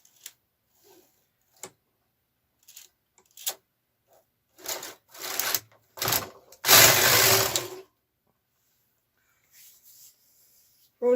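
A Brother KR 230 knitting machine carriage sliding across to knit a row, with a few soft clicks, then a louder rising whir and rattle of the pass, followed by quiet.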